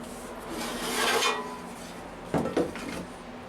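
Rasping strokes of hand sanding, a long scrape followed by two shorter sharp rubs, fairly close and quiet.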